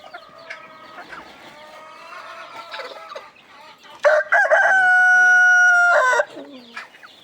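Free-range heritage chickens on a farm: clucks and squawks come first, then a loud close rooster crow holds for about two seconds before trailing back into clucking.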